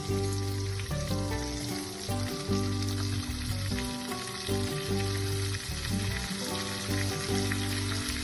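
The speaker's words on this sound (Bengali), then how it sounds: "রসুন আর পেঁয়াজটা আমি একসাথে ভেজে নেব।" Garlic and onion frying together in a pan for Bengali bharta, a steady close sizzle with clinking stir sounds running throughout, no talking.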